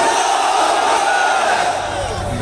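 A large crowd at an Asaduddin Owaisi public rally in Chhapi, Gujarat roars a raised-hands chant of Nara-e-Takbir, a loud, dense, continuous mass of voices that fills the whole stretch.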